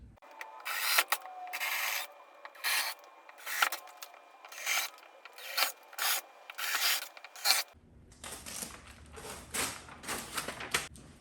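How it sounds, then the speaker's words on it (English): A power drill whirs in a rapid series of short bursts, sped up, while drilling holes into a wall, followed by a steadier grinding rasp near the end. "So I'm gonna drill those."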